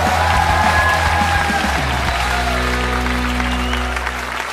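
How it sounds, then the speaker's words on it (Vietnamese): Audience at a Vietnamese televised singing competition applauding steadily as the judges are welcomed, loud dense clapping that fills the whole stretch and eases slightly near the end over sustained stage music. "Xin một tràng pháo tay chào đón giám khảo Đại Nghĩa"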